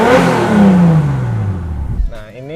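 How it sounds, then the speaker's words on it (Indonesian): A Nissan Silvia S15 engine revs loudly through a free-flow exhaust, its deep note dropping away as it settles, before a voice speaks at the end. "Untuk knalpot yang free flow, free flow benar. adem banget suaranya."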